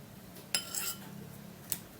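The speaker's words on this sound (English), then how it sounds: "I'm going to be scooping all of this avocado meat into a bowl" A metal spoon scraping and clinking against a bowl while avocado flesh is scooped out, one bright clatter followed by a faint scrape and a second sharp tap, close and quiet with a soft hum underneath.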